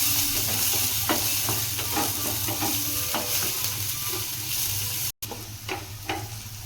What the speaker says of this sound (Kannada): ಈಗ ನಾನು ಇವನ್ನ ಹಾಕ್ತಾ ಇದ್ದೀನಿ ಮತ್ತು ಈರುಳ್ಳಿನೂ ಹಾಕ್ತಾ ಇದ್ದೀನಿ. ಇದು ಚೆನ್ನಾಗಿ ಫ್ರೈ ಮಾಡಬೇಕು ಇದನ್ನು.